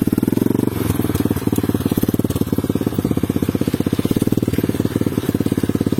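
An Apollo 125 RFZ motorcycle pulls away uphill in first gear, its small single-cylinder engine chugging loud and close in a steady, rapid beat throughout.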